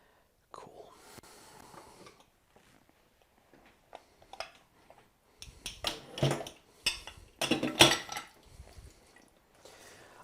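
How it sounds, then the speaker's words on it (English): Dishes are washed by hand in a tiny kitchen: plates, pots and cutlery clink and knock in bursts against water sounds, quiet at first and busier toward the end, with soft whispering at times. "helping the cook wash dishes"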